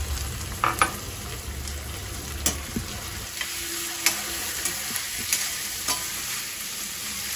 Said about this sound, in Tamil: இந்த சுண்டைக்காவை அப்படி போட்டு இதை போட்டு எண்ணெயில் போட்டு நல்லா வதக்கணும்